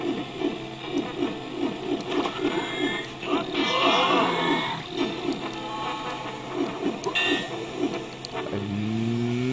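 Steam-powered enemies in Medievil chug and hiss, a rhythmic mechanical pulsing with bursts of steam venting and clanks, moderately loud with game sound around it.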